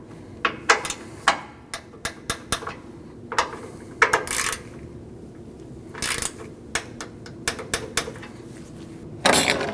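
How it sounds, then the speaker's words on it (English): Hand wrench torquing two bolts on a radiator in a 2012-2021 Nissan NV2500 with a 5.6L V8, heard as scattered sharp metallic clicks and taps, close and uneven, over a quiet background with no talk. "Both of those bolts get torqued down to 60 inch-pounds."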